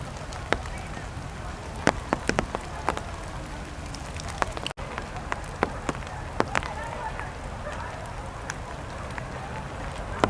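Rain falls steadily by a lake in botanic gardens, a soft continuous patter with scattered sharper drips and one sudden knock near the middle. It stays even and moderately quiet throughout.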